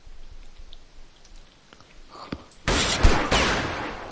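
A burst of rapid gunfire in the Counter-Strike game erupts after a quiet stretch with faint scattered clicks, the shots loud and dense for over a second.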